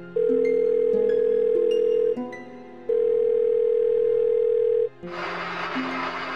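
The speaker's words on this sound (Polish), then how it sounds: "Następnie wybrałem numer telefonu komórkowego ojca. Wcisnąłem zieloną słuchawkę." A telephone line after a mobile number is dialed gives long steady ringback tones, two sustained loud tones separated by a short gap, followed by a burst of harsh noisy static.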